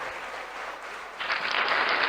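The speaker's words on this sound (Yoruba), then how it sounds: "Pàtẹ́wọ́ fún Jésù, pàtẹ́wọ́ fún Jésù," A congregation at a family and prayer revival service claps together, the clapping thin at first and then swelling louder and brighter halfway through, with a faint voice beneath.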